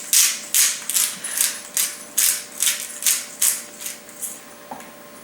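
A pepper grinder cracks black peppercorns over browning meat in a steady series of about a dozen rapid, close, crisp grinding bursts, with nothing else heard.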